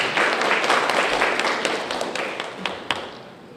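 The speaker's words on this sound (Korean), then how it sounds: "뜨거운 박수로 맞으시기 바랍니다." A crowd at a mayoral inauguration ceremony in Hanam claps steadily, loud at first and gradually tapering off, with a few sharp individual claps standing out near the end.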